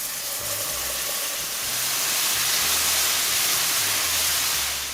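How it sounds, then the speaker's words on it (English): Broth poured into a butter and flour roux for Mexican birria oven-roasted turkey gives a steady, continuous sizzling hiss that swells slightly midway and stays fairly loud throughout, with a faint low hum beneath. "Once you've blended your butter and your flour, it's time to add our delicious broth."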